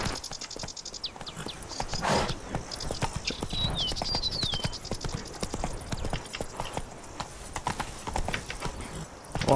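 A horse's hooves clip-clop in a quick, steady rhythm as the rider's mount Roach moves through the game The Witcher 3: Blood and Wine, mixed with other game sounds.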